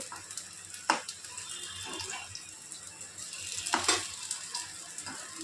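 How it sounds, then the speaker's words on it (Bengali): Coated baby corn deep frying in hot oil for a crispy snack, giving a steady soft sizzle with a few sharper crackling bursts near the middle and toward the end, no voices. "এবার লাস্ট এই কটা ছিল এই কটা আমি ভেজে নিচ্ছি"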